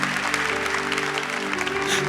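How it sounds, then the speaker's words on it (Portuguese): Congregation applauding in a church service, steady dense clapping with a sustained musical tone underneath throughout. "aplauda para valer"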